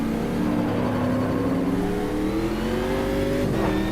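A race car engine in Automobilista 2 holds a loud, steady drone as its pitch slides gradually downward under hard braking for a tight left-hander, then drops sharply near the end.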